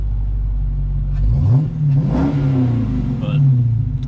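Mopar 5.7 Hemi V8 fitted with a cold air intake rises from idle through two close rev blips and settles back, a loud, near throaty engine note with no talking.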